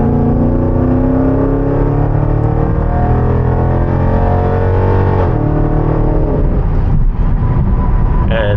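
Modified 2020 Jeep SRT with an aftermarket exhaust, engine droning loud and steady from inside the cabin as revs climb, a continuous rumbling roar with a shifting pitch and no speech.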